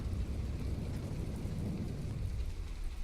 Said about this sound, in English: In the rain. I do not like the rain.